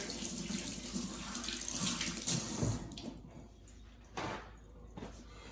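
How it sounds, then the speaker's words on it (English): Tap water streams steadily into a sink during quick hand washing in a home kitchen, a close, continuous hiss that thins out partway through with a brief splash near the end. "wash my hands real quick."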